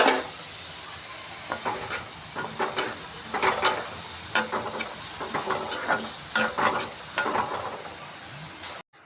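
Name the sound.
urad dal roasting in an iron pan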